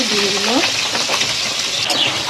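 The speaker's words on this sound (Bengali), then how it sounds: "নুন আর হলুদ দিয়ে ডিমগুলো ভেজে নেব" Eggs frying in a pan with salt and turmeric, a loud, continuous sizzle with stirring scrapes and a brief voice-like tone at the start.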